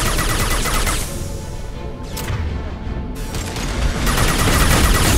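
Dense gunfire crackles through a Mass Effect 2 firefight in rapid bursts, loud and close, dipping briefly in the middle before another heavy volley.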